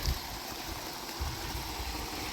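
Running water from a natural spring stream on a hillside pilgrimage trail, a steady close rushing wash with low gurgling bursts, heard alone without voices.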